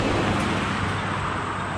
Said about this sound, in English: Stupid cars won't let me film a video